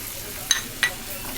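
Okra frying in oil with salt and turmeric in a pan at home, a soft steady sizzle underneath with two brief sharp spits or stirring scrapes close by.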